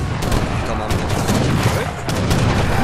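Repeated cannon and gunfire blasts from a large multiplayer battle in Age of Empires 3, dense and continuous, booming under a busy layer of game noise with occasional voice chat mixed in.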